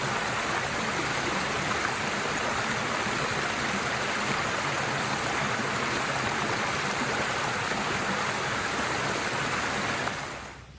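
A running brook beside a solo camp with a hammock rushes steadily and evenly from start to finish, a close, unbroken wash of water with no voices.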